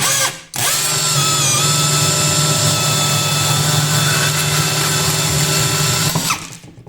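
A sheet metal cutting attachment on a power drill shears through a spatula, giving a loud, steady high-pitched whine with bright tonal overtones that runs for about six seconds after a brief start, then cuts off abruptly.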